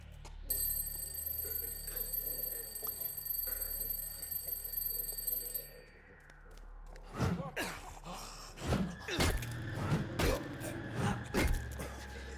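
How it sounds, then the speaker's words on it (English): A thrown alarm clock rings in the video game Into the Dead: Our Darkest Days, a bright continuous metallic ringing for several seconds that then stops, followed by scuffling, thuds and gasps. "I will throw an alarm clock."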